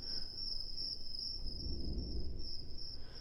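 Crickets chirping in a continuous high, even trill mixed under a low rumbling background bed, steady throughout with no voices.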